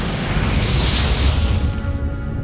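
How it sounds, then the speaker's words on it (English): A deep, roaring supernova explosion effect, a broad rumbling blast with a bright hiss that swells then fades away over a couple of seconds, heard alone. "they blew up in a tremendous explosion called a supernova"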